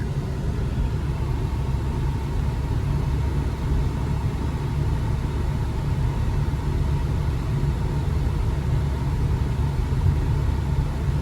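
A car on a hot Texas highway produces a continuous, loud road rumble and engine drone that stays steady throughout, with no voices heard.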